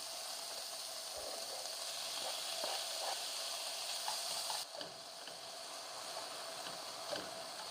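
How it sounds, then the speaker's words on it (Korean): Sliced pork sizzles and crackles steadily as it stir-fries in a hot pan for japchae, a soft continuous frying hiss with occasional stirring scrapes and no talking. "썰어 놓은 고기를 볶습니다."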